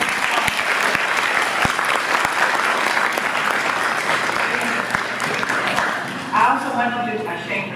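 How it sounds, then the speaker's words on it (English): Audience applause at a library holiday writing competition, a full, sustained clatter of many hands lasting several seconds before a voice begins to speak at the end. "So let's give a round of applause."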